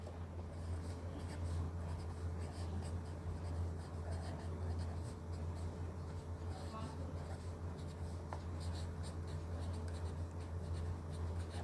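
Marker or chalk scratches softly across a board in short strokes as equations for definite integrals are written. The sound is faint and intermittent over a low steady hum, with no speech.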